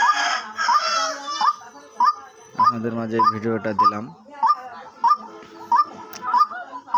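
A white-breasted waterhen repeats short, sharp calls at a steady rhythm, with someone talking briefly in the middle.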